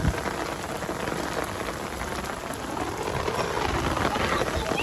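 Heavy rain pouring steadily onto surfaces nearby at a crowded fishing spot, a dense continuous patter with a faint voice somewhere underneath.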